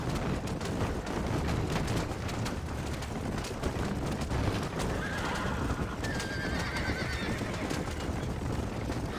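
Horses in the Red Dead Redemption video game neigh and whinny amid steady hoof clip-clop, all over a dense, loud background of game ambience, with a couple of whinnies standing out in the middle of the clip.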